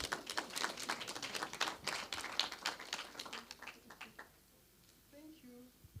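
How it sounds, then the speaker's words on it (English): An audience applauds a speaker at a commission meeting, a dense patter of hand claps that thins out and fades after about four seconds, leaving a faint voice in a quiet room. "Another round of applause for him, please, colleagues."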